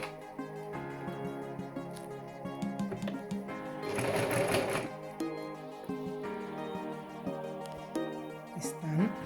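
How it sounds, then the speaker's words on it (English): A sewing machine stitches a fabric face mask in quick, continuous mechanical runs that rise and fall in intensity, while a person talks over the whirring throughout. "So now I'm sewing this, I'm sewing here"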